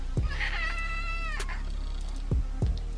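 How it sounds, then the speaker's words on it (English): A pet cat meows indoors, one drawn-out, wavering meow near the microphone followed by a couple of short low thumps of handling. "Today, my cat's here. I'm gonna let her say hi."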